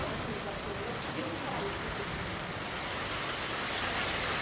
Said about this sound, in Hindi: ये देखो हमारे यहाँ क्या मजेदार बारिश है